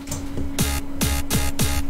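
Electronic dance beat from a Launchpad project: a deep kick thumps about every half second while a bright, sidechained hi-hat wash ducks under each hit and swells back between them, with a steady tone running throughout.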